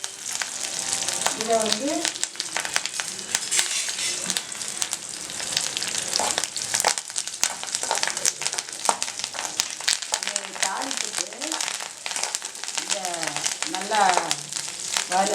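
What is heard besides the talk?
dried red chillies and curry leaves frying in oil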